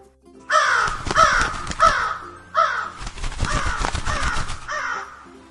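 A crow caws loudly several times in harsh, drawn-out calls, close and clear against a quiet background.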